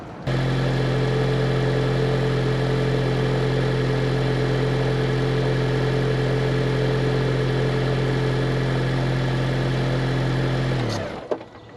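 A 2019 Toyota Prius hybrid idling steadily with a deep, even hum that holds for about eleven seconds, close and loud, then cuts off abruptly as the engine shuts down, with no talking.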